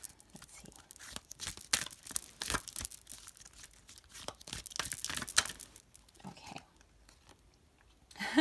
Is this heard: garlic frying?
no